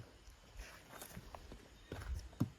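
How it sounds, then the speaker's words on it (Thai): Irregular footsteps on a floor inside a house at night, soft and fairly close, with a few louder thuds near the end and no talking. "เสียงเดินก็คือเสียงเดินมันดังตลอดเวลา"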